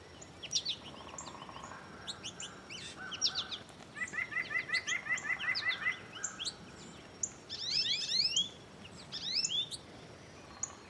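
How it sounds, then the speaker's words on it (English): Song sparrows sing repeatedly in crisp, rapid trilled phrases with sharp chirps, close and clear, filling the whole stretch with overlapping bursts of birdsong and no voices. "Song sparrows are ever present."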